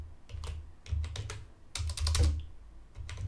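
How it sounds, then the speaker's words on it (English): Typing on a computer keyboard while entering sizes into a custom table for a T-shirt order: bursts of quick, close keystroke clicks come in clusters over a low steady hum. "I go ahead and select that, and then I can start typing."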